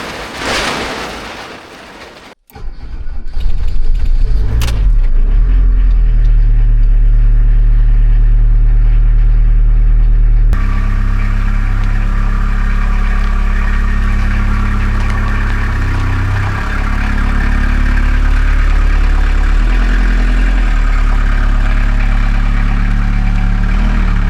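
A camper van engine starts and then idles steadily and loudly close by, a low continuous rumble with a brief clatter at the start and no talk.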